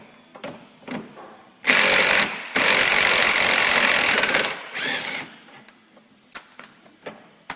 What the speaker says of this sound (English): The next step is removing the tie rod ends from the spindle, a 17 millimeter wrench on the top, and an 18 millimeter from underneath.